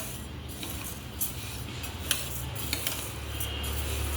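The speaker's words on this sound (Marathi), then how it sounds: "आता आपण हे आपले तांदूळ छान पद्धतीने भाजून घेऊयात." Rice dry-roasting in a pan while being stirred, a continuous gritty rustle with scattered light scrapes and taps of the spoon against the pan, close and fairly quiet, with a low hum underneath.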